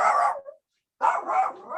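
A dog gives two close, loud bursts of barking separated by a short silence, each bark rough and yelping.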